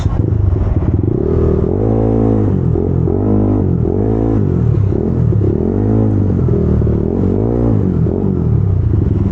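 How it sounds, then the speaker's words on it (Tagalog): A Yamaha Aerox V2 215cc scooter engine revs repeatedly in loud, rising and falling bursts, close by, with a steady rumbling idle underneath. "Grabe yung ugong ng motor ko lalo ngayon."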